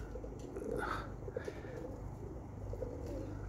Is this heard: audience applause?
no